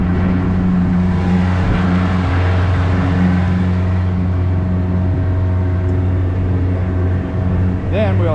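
Alumiweld jet boat with a Yamaha F175 V MAX outboard running steady and loud in gear, a constant droning engine hum that holds throughout and rises briefly near the end as throttle is added.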